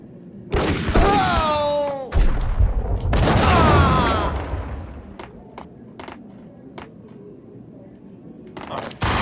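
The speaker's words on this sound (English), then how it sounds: "That's a grenade." A grenade in the Max Payne video game goes off with a heavy boom and rumbling aftermath, followed by a few sharp shots, while a voice talks over parts of it.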